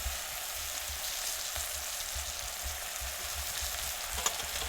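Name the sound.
vegetables frying with chili powder in pan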